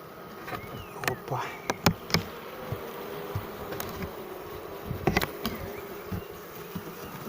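A stray honeybee swarm settled into a hive hums with a faint, steady drone, scattered clicks and taps from handling the frames cutting through now and then.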